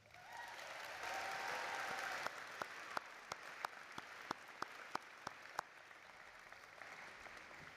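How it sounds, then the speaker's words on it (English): Graduates at the 2025 UW-Eau Claire spring commencement applaud their parents and loved ones, a broad swell of clapping that fades within two seconds into scattered, evenly spaced single claps before dying away. "Graduates, please take a moment to show your appreciation to them with a round of applause."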